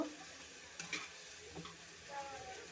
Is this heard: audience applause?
no